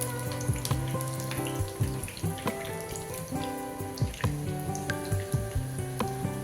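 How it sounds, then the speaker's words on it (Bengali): Paneer cutlets fry in hot oil with a steady, dense crackling sizzle and scattered sharper pops, moderately loud and close, running the whole time beneath soft tonal background music. "আমি একটা ভেজে দেখাচ্ছি"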